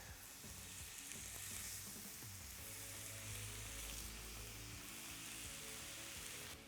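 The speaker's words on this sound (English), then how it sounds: "Oh, you hear that sizzle?" Kofta kebabs sizzle in olive oil on a grill, a loud, steady, crackling fry that runs unbroken throughout.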